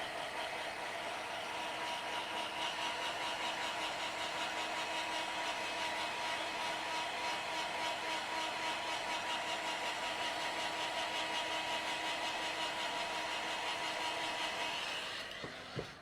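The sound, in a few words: drying tool blowing air to dry a craft project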